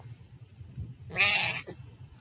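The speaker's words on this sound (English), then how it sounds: "She kind of has a weird meow." A single drawn-out, slightly odd meow from a cat, clear and fairly close, rising over a low background murmur.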